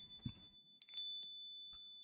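A faint, high bell tone rings and sustains, with a couple of soft taps and a brief low thump before it.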